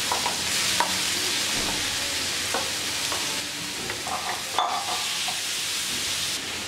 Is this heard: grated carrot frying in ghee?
yes